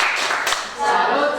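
A class of students in an Indonesian classroom does the 'tepuk salut' clap chant, with dense group clapping blended with loud voices chanting together in a lively, crowded room.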